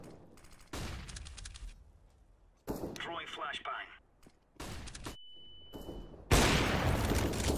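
Bursts of gunfire in Counter-Strike: Global Offensive come in separate volleys with gaps between them, along with other game sounds and a steady tone, and a player talks over parts of it.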